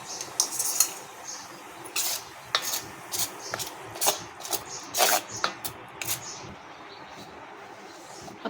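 Flour being rubbed and mixed with warm ghee in a metal bowl for khaja dough, making repeated scraping and rasping strokes in an irregular rhythm, close up, with no talk.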